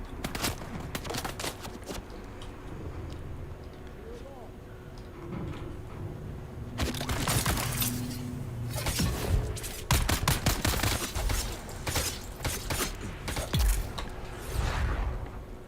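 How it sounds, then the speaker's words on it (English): Sniper rifle shots and other gunfire in the desert shooter Dune Awakening, sharp cracks scattered at irregular intervals over a busy rumbling battle bed, thickening into dense bursts in the second half. "Every now and then I hear a sniper shot"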